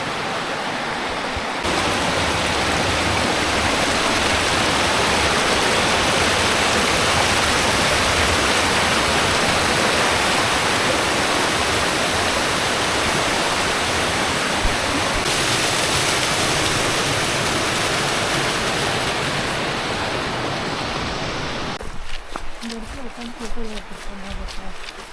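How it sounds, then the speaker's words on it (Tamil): Small river flowing beside a bridge on a trip to a kiwi farm, with clear water giving a dense, steady rushing roar that stays loud and close for most of the time before breaking into rustling handling noise near the end. "இந்த ஆறு எவ்வளோ அழகாக இருக்குல்ல குட்டி ஓட ஆறு"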